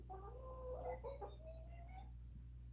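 Pet chicken clucking close by in a quiet room, a short run of soft, rising clucks and chirps over a steady low hum.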